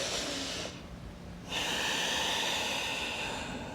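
A deep inhale through the nose during a yoga flow, heard close and airy, briefly easing off before a long, loud, steady breath continues to the end.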